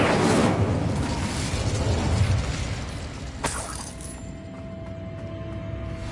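Incendio fire spell cast in Hogwarts Legacy, a dense whooshing burst of flame that fills the first few seconds and then dies into a sharp crack and a lingering faint tone.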